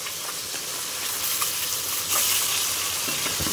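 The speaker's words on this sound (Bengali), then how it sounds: "মাছ ভাজা করছি আমরা এখন" Steady, loud sizzling of fish frying in oil, a constant hiss with occasional scraping pops, no voices.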